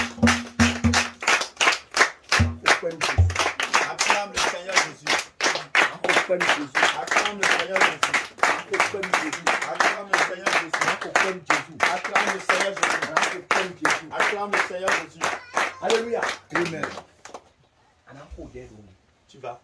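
A church congregation claps together in acclaim for the Lord Jesus, a dense, steady rhythmic burst of hands that keeps going for most of the stretch, loud and close, before it fades out near the end.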